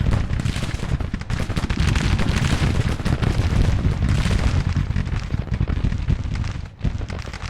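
Artillery pieces fire across a Civil War battlefield in Grand Tactician: the Civil War. Booming shots and crackling musketry overlap continuously in a dense, loud roar with no pauses.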